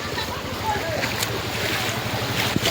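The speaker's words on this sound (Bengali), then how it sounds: "ঝর্ণার জল পড়ছে" Waterfall water pouring steadily on a rainy day, a continuous broadband rushing wash with no breaks, fairly loud and close throughout.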